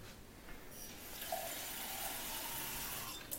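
Water running from a tap into a glass, a soft steady stream that swells and brightens as the flow strengthens, close and alone without talk.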